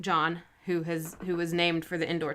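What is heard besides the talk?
No everyday noise stands out behind the speech.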